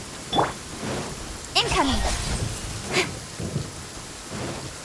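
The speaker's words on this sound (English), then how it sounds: "Quite a downpour." Steady heavy rain in Genshin Impact hisses throughout, with a voice speaking briefly over it and a few sharper bursts rising above the downpour.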